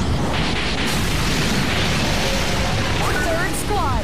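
A generator exploding in the Godzilla PS4 video game, a loud, continuous burst of booming, crackling noise with a short voice line from the game near the end.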